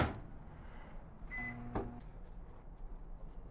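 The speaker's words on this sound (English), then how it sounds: "I microwave starting out 2 minutes, and then I'll stir it." A microwave oven starts up, giving a couple of short electronic beeps and clicks before settling into a low, quiet, steady running hum.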